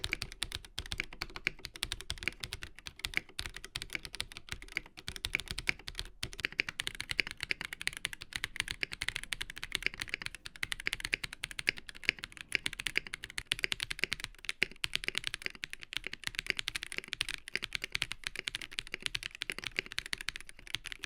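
Continuous rapid typing on an Ikki68 Aurora R2 mechanical keyboard with no dampening gives hollow, brittle clacks, close and fairly quiet, with no voices.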